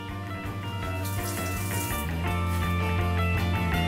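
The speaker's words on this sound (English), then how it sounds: "Now I'm gonna wash my hands." Hands are washed under a running kitchen tap. A steady stream of water splashes close by, with rubbing and slight variations in the flow.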